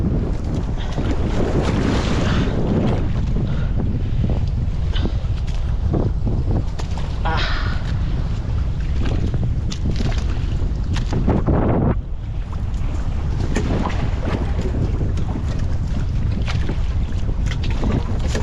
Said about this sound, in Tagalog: Kalalaki ng alon.